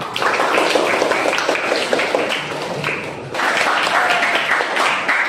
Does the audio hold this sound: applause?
yes